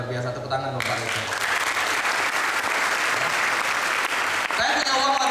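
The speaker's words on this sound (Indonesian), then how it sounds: "Tepuk tangan dong Pak Royke." A crowd claps in steady, sustained applause at an evening ambassador event in Sidoarjo, dense and loud for several seconds, with a voice speaking briefly before it starts and again as it fades.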